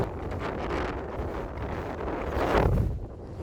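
Strong wind buffets the microphone on an exposed Scottish hilltop at an Iron Age hillfort, a continuous loud roar that swells near the end, with no voices.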